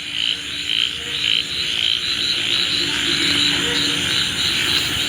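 A dense chorus of frogs croaking continuously after rain, mixed with a high insect drone, steady and fairly loud throughout.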